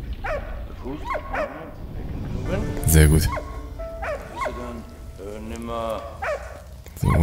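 Dog barking in the World War I video game Valiant Hearts: The Great War, several sharp barks and yips scattered across the clip, mixed with a loud thump and someone talking.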